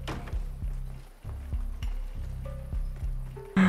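Horse hooves clip-clopping in the Western video game Desperados 3, a steady loud trotting rhythm of close, sharp hoofbeats that pauses briefly midway, then resumes, with a short tonal game sound at the end.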